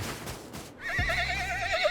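A horse in the video game Rust neighs loudly and close, a single long whinny with a shaky, wavering pitch that rises over brief hoof sounds at the start.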